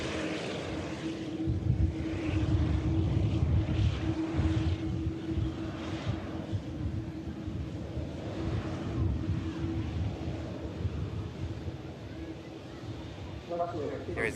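An Airbus A330 air tanker lands at Manchester Airport, a broad, steady engine roar with a sustained hum that swells early, holds, and eases slightly toward the end, heard from a distance outdoors.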